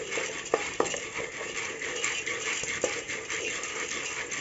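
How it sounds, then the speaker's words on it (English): Popcorn kernels stirred in a pot, giving faint, light scraping and rattling with a few sharper clinks against the metal, steady and close, with no voices. "Just stir it."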